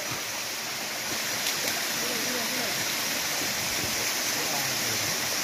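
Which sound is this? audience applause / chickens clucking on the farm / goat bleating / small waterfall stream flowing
small waterfall stream flowing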